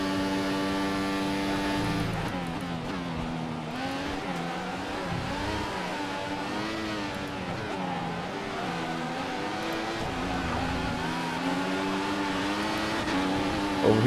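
An F1 car engine in F1 2014 at Silverstone howls continuously, its pitch sweeping up and down through gear changes, loud and steady with no talk.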